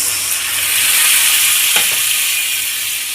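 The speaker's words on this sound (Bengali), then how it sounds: "এবার মশলা বেটেছিলাম, ওই জলটা দিয়ে দিলাম, উষ্ণ গরম জল।" Warm water carrying ground spice paste hits hot frying oil for a katla fish curry, a loud, close, steady sizzle and crackle that holds evenly from start to finish with no voices.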